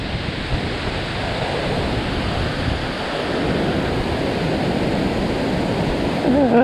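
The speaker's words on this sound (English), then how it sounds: "There's some serious wind today." Strong, steady wind sweeping over a lake near a dam while kayak fishing, a constant loud broadband roar with buffeting gusts against the microphone and no clear pauses.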